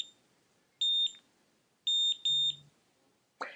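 A wireless automatic hair curler gives three bursts of high electronic beeping, each a quick double or triple beep pattern, clear and close in a quiet room.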